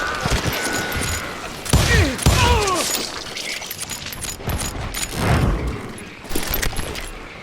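Western shootout gunfire in the video game Call of Juarez Gunslinger, scattered shots and bursts mixed with game sound effects and music, some reports sharp and close, others softer, with no gaps of silence.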